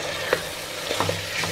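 Tomato added to a pan of frying masala, with a steady close sizzle and a few soft stirring knocks throughout a short stretch.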